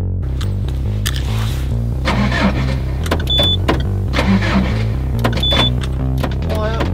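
A broken-down car's starter motor whirs and grinds over and over without the engine catching, loud and close, with voices in the background.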